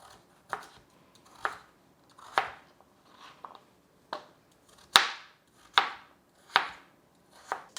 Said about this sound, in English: But now we're gonna dice it up.